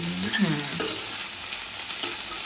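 Pea usal curry with coriander stirred and frying in a pan in a Konkan village home kitchen, a steady close sizzle with scraping stir strokes, with no talk.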